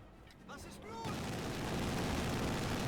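Quad half-track machine guns in Company of Heroes 2 open up after a quieter start: a dense, continuous roar of rapid fire fills the battlefield, loud and unbroken.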